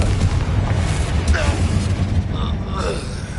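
A Confringo spell blast in the video game Hogwarts Legacy, a dense booming burst with rumbling low end and crackling debris, followed by whooshing magical tones, loud and close.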